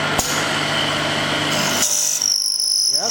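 A wood dowel double end chamfer machine mills and grinds with a loud, rough, continuous sound, then drops to a high motor whine near the end.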